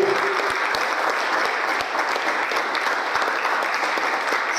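A church congregation breaks into sustained, steady applause, a dense wash of many hands clapping without pause, fairly loud and close.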